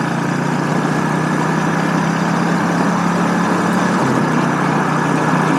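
A 2007 Suzuki S40 Boulevard motorcycle with a Harley Sportster muffler idles steadily and loudly up close, giving a continuous low engine rumble with a brief dip in tone near the end.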